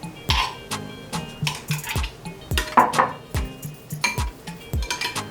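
Spare rib seasoning with ketchup and black pepper being mixed, heard as repeated clinks and scrapes of a utensil against a bowl, up close and irregular in rhythm, with no talk.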